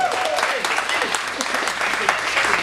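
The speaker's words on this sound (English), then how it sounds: "So I'd like y'all to just give them a round of applause for what they're doing." Loud, dense crowd applause at a brunch gathering, continuous clapping with voices calling out over it.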